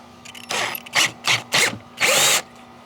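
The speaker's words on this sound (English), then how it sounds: "I hate having to drill this big of a hole" A power drill fitted with a large bit bores a big hole while wiring a teardrop camper, running in four or five loud bursts of grinding whine with short pauses between, the last the longest.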